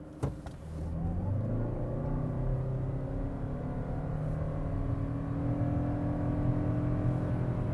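A 2025 Toyota Crown Signia hybrid pulls away from a brake-boosted standing start, and a smooth, steady engine and road drone rises and holds inside the cabin after a brief knock at the start, with no one speaking.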